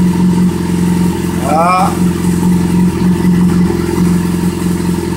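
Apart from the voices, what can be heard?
Yamaha FZ6 motorcycle engine blipped during carburetor synchronisation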